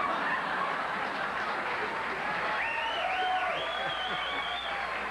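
Sustained applause from a late-night TV talk show studio audience, a steady wash of clapping, with a few whistles rising over it toward the end.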